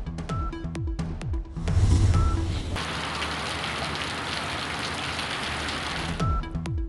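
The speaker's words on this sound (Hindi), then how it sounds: "सऊदी अरब में तेज बारिश और सैलाब से तबाही।" Heavy rain falls during a storm with flooding in Saudi Arabia. A dense, steady roar of rain hitting surfaces swells in after a short lead-in and holds for several seconds.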